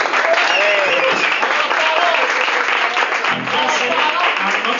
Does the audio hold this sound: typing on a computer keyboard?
no